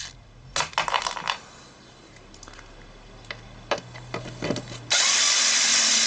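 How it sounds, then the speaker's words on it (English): Electric screwdriver backing out small Torx screws from a Mercedes Vito W639 taillight: brief close whirring bursts and clicks, then a sustained steady motor whine running to the end. "Okay, I have my electric screwdriver here and that's it. Let's remove it."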